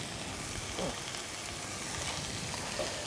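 Sweated vegetables sizzle steadily in a pan as white stock is added, a soft, even crackling hiss with a couple of faint clinks, fairly quiet and without talking.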